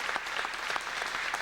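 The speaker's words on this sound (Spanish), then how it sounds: "Un aplauso bien grande para tu Octavio, por favor." Audience applause at a gathering honouring Octavio, a sustained patter of many hands clapping together, fairly even and moderately loud, with distinct individual claps poking through.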